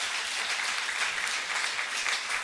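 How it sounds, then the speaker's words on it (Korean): A church congregation at a New Year's Eve worship service gives a sustained round of applause, a dense, even wash of many hands clapping at a moderate distance, steady from start to finish with no voices standing out. "주님께 영광의 박수 올리겠습니다"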